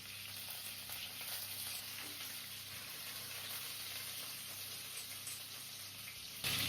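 Oil sizzles steadily in a hot pan as ginger, garlic, green chili and curry leaves fry for a chicken curry, a continuous close crackling hiss with faint stirring and no talk.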